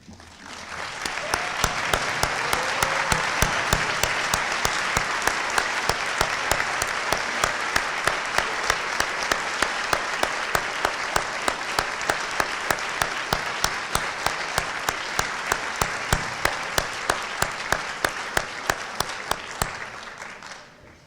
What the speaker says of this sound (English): if all of the members of the class of 2014 would stand so we could applaud them here this evening